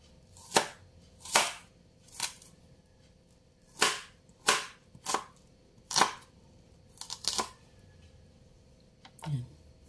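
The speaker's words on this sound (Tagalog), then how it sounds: "Uunahin natin, guys, ang sibuyas. Hihiwain natin to." A knife chops onions on a cutting board with about a dozen sharp, separate knocks spaced unevenly, close and fairly quiet in a calm kitchen.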